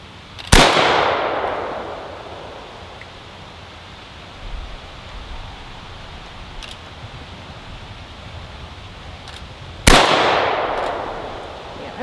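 Two sharp, loud AKM rifle shots sound about nine seconds apart outdoors, each a close crack with a long echoing tail. Quiet background noise fills the gap between them.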